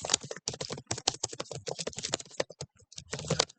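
Rapid, close typing on a computer keyboard in Microsoft Word, with dense bursts of crisp key clicks separated by brief pauses.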